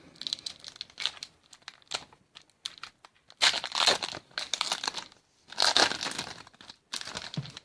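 A hobby pack of baseball cards is torn open, the foil wrapper crinkling and ripping close by in irregular bursts with short quiet gaps between.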